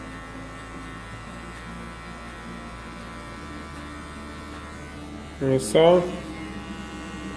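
Hair clippers with a zero guard, blade raised, buzzing in a steady low hum while a barber blends a fade, with a short louder burst near the end as the clipper meets the hair, and brief speech.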